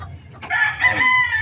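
Caged chickens, just fed in the morning, give a loud, close crowing cackle that rises after a brief softer cluck, with no talk.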